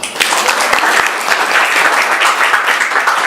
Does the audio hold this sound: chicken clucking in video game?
no